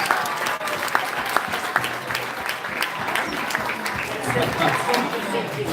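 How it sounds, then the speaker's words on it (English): Guests at a celebration applaud the contestants of a party game, with brisk crowd clapping at close range and a few voices talking over it. "Round of applause to all our contestants."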